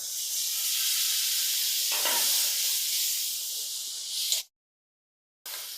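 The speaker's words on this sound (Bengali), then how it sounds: "ধনে জিরের গুঁড়ো আর দিয়ে দিচ্ছি হলুদ আর দিয়ে দিচ্ছি সামান্য জল" Ground spices and a splash of water hitting a hot pan give a loud, steady sizzling hiss that runs for about four seconds, then cuts to silence before the sizzle resumes briefly, with no talk.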